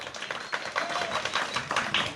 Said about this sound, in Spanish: Vamos con un aplauso para la historia número 1